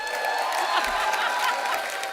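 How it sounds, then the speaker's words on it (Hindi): Studio audience applause on the Kapil Sharma comedy show set, greeting the Gehraiyaan star cast. A steady, dense wash of clapping fills the whole stretch without pause, with no talking over it. "एक बार जोरदार तालियां गहराइयां की स्टार कास्ट के लिए।"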